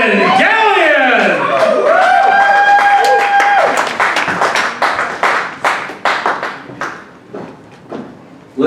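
A small audience at a birthday show cheers and whoops, then breaks into loud, close clapping that thins into scattered claps over several seconds, with voices and laughter mixed in.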